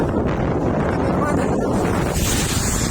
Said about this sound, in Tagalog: hirap-hirap si kabisyo, malakas ang hangin.